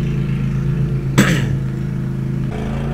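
A lawnmower drones steadily nearby as a low, continuous engine hum in the game Defiance, running throughout with one brief louder burst partway through and no talking.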